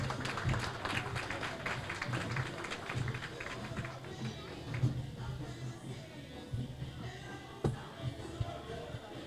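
Crowd applause at a legal conference summit session, a busy wash of clapping that is strongest early and gradually thins out, with a few isolated claps and faint murmur toward the end.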